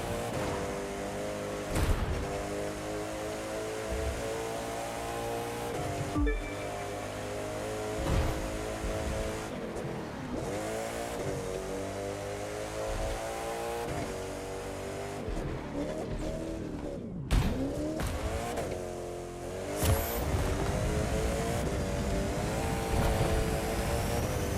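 A Koenigsegg hypercar races through New York in The Crew 2, its engine droning and revving loudly through repeated gear shifts, with brief tire squeals and whooshes, the sound alone and continuous.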